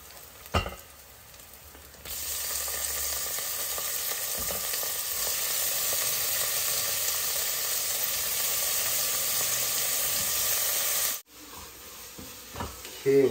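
Tomatoes fry with ginger garlic paste in a pan for masala kichidi. A loud, steady sizzle holds for several seconds, with stirring clatter at the start. It stops abruptly near the end, and a few faint knocks follow.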